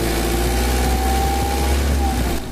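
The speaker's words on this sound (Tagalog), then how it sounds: "i-rev ko itong makina" A Mitsubishi L300 engine runs steadily up close with a deep, constant hum and a rough low rumble. It is loud and unbroken, and no one speaks.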